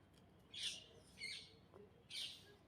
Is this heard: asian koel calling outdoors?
yes